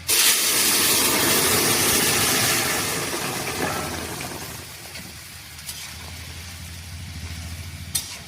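Tempering spices and bay leaves hit hot oil in a wok with a loud burst of hissing sizzle that gradually fades to a softer crackle, with a faint low hum underneath and no speech.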